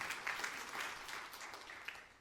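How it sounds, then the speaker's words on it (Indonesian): A church congregation claps together during a sermon in a steady, fairly faint wash of applause, a few louder claps standing out. "Tepuk tangan yang meriah untuk kemuliaan nama Tuhan."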